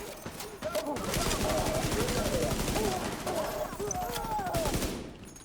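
Rapid, continuous M700 gunfire in a video game, a dense rattling stream of shots for several seconds, with a voice talking over it.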